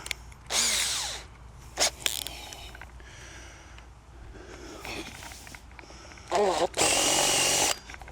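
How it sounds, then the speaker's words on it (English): A step drill whines through metal on a mast lift in several loud bursts separated by pauses, the last burst the longest, with clanks of handling in between. "Right, step drill."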